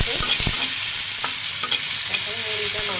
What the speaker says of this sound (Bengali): কাঁচা মরিচ এগুলো দিয়ে একটু তেলের মধ্যে দিয়ে ভাজে নিচ্ছি।